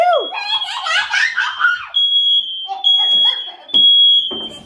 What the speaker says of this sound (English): Mama's going to have the alarm go off and we're going to see what Olivia does